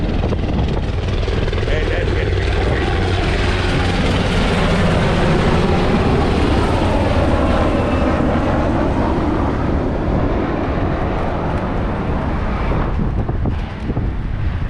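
Attack helicopters passing overhead along the US1 Overseas Highway, a broad continuous rotor roar mixed with wind noise, with people talking over it.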